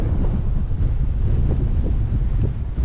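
Constant blustery wind rushes across the microphone outside on a farm during Case IH planter repairs, a dense low rumble that pulses slightly with gusts throughout.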